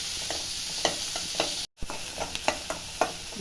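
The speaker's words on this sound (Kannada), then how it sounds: "ಈರುಳ್ಳಿ ಚೆನ್ನಾಗಿ ಸ್ವಲ್ಪ ಬ್ರೌನ್ ಆಗುತ್ತೆ ಒಂಚೂರು ಫ್ರೈ ಮಾಡಬೇಕು" Onions frying in a pan for gobi manchurian, with a steady close sizzle and repeated scraping stir strokes, broken by a brief silent cut midway.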